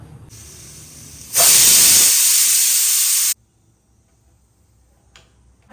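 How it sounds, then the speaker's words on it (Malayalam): A pressure cooker cooking beef lets off a loud, sustained steam whistle of about two seconds that cuts off abruptly, leaving quiet kitchen background with a faint click afterward. "നാല് വിസിൽ വന്നിട്ടുണ്ട്"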